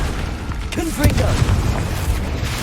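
A Confringo spell goes off in Hogwarts Legacy as a deep booming blast with a rumbling tail, close and loud, while a voice speaks briefly over it.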